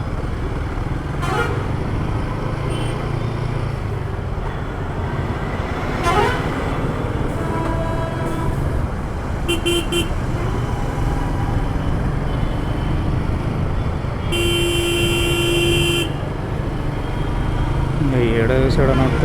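Busy road traffic with car and motorbike horns honking in several short toots, engines rumbling throughout, close by on a ride.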